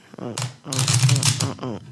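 Playing cards being shuffled by hand, a riffling flutter in short bursts, heard up close alongside speech.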